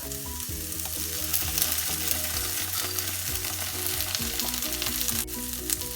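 Spicy chili sauce and vinegar are stirred in a hot pan for hot and sour chicken soup. A loud, constant sizzle plays alongside a strong musical backing, with no voices.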